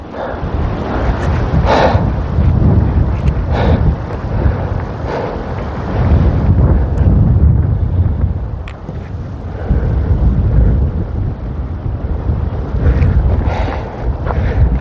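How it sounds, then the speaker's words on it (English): Strong wind on a golf course at night roars and buffets a wireless microphone in heavy, surging gusts, rising and easing in waves over a low rumbling background. "Very windy tonight actually. Very, very windy."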